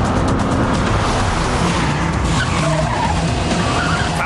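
A car accelerating hard during a chase, loud tire skidding and squealing over a roaring engine, close and continuous throughout.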